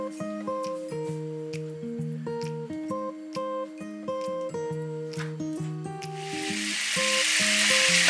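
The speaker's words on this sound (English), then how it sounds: "to this wok we're going to get the heat on, add some olive butter," Olive butter and garlic hit a hot wok, and a loud broadband sizzle surges in over the final seconds beneath a clear, melodic music track that plays throughout.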